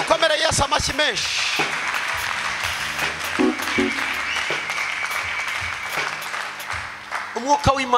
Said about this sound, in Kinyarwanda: Mureke dukomere Yesu amashyi menshi.